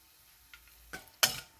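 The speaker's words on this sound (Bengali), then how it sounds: "এটাকে ভালো করে ভাজা ভাজা করে নেব" Black cumin seeds and dried chillies fry in a pan, marked by a few short stirring scrapes and clatters that end in one loud, close burst over a faint sizzle.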